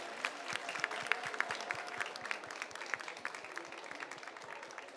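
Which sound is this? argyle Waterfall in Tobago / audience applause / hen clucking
audience applause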